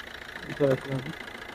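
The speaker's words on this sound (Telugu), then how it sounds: "ఇంజన్ చూడండి ఒకసారి. బీటింగ్ అయితే చాలా సైలెంట్గా ఉంది." A Maruti Suzuki Swift VDi diesel engine idles with a low, steady hum that stays quiet throughout, and a short burst of human voice rises briefly over it midway.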